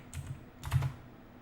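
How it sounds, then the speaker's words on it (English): Computer keyboard typing during a Python pandas coding session, two short bursts of quiet keystrokes separated by a brief pause, close and alone with no talk. "I'll just type it up for now."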